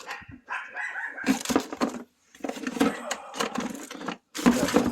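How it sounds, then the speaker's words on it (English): A small dog named Ludwig barks repeatedly in short, sharp yaps from across the room, loud, fairly close bursts broken by brief gaps. "that's our little dog Ludwig, my brother's dog, hearing something and barking out about it over there"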